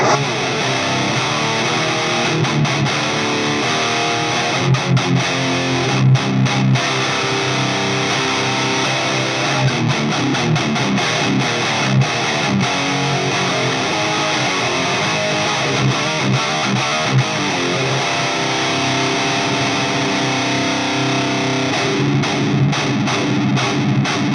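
A Gibson-style SG electric guitar through a Crate Blue Voodoo amp plays heavily distorted riffs and chugging chords continuously, dense and loud with no talk.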